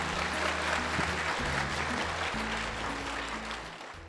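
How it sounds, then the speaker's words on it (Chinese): Audience applause at a stage talk show, a steady wash of clapping from a live crowd that holds at full strength for about four seconds before tapering slightly, with no voices over it. "掌声鼓励一下"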